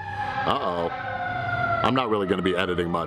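A siren passes outside, its wail rising and falling faintly in the background beneath a person talking indoors.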